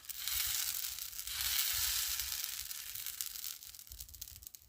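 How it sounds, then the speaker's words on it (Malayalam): Ground carrot batter poured onto a well-heated pan and spread out produces a soft, continuous sizzle that swells and then gradually thins, quiet and close with no talking. "പാൻ നന്നായിട്ട് ചൂടായിട്ടുണ്ട്. നമുക്ക് അരച്ച് വെച്ചിരിക്കുന്ന മാവിൽ നിന്ന് കുറച്ച് ഇതിലേക്ക് ഒഴിച്ചു കൊടുക്കാം."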